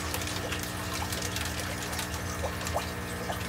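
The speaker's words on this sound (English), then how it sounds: "Get all the water out." Water splashes and trickles continuously as a bucket holding axolotls is emptied, a steady wet gurgle, close by.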